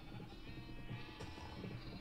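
Sheep bleating in a video game, with a mother ewe and her duplicated lambs sounding in short, overlapping calls over a steady busy background for two seconds.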